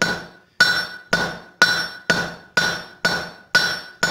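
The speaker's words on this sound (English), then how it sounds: "Now I'm going to come over to the horn of the anvil." Copper is hammered on the horn of an anvil, nine sharp ringing metallic blows in an even rhythm, each with a brief bright ring that fades before the next, close and clear with no talking.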